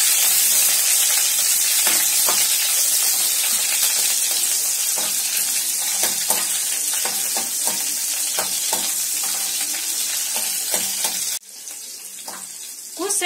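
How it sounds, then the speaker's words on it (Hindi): Mustard seeds and long-cut green chillies sizzle and crackle in hot oil in a pan as they are stirred, a loud, continuous frying hiss with intermittent pops, fading briefly near the end. "तेल जब गरम हो जाए तो इसमें आधा चम्मच राई डाल दें। 2 से 3 लंबी कटी हरी मिर्च डाल दें।"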